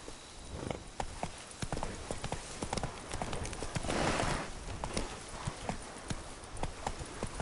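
A horse gallops in the video game The Witcher 3, with quick, rhythmic hoof clip-clops close up and a brief rush of wind or movement noise midway.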